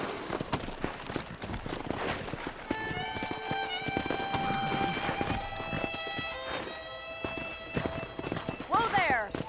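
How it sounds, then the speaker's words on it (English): Horse hooves clip-clopping in the Western video game Red Dead Redemption, a steady run of hoofbeats under game music and character speech, with a horse whinny near the end. "Let's see if we can't wrangle some horses."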